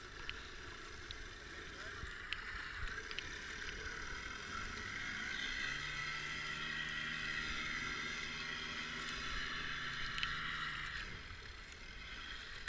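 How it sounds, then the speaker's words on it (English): A powerboat in the Avon Descent river race with a dead propeller passes close by, its motor droning steadily and sounding rough, with wind and water noise throughout and faint voices in the background. "That's a bad sounding motor."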